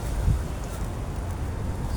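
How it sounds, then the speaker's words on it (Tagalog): Strong wind buffets a condo rooftop twelve floors up, a steady close roar with low rumbling gusts that continues without a break. "ang lakas ng hangin"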